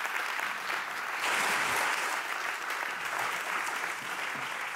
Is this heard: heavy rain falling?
no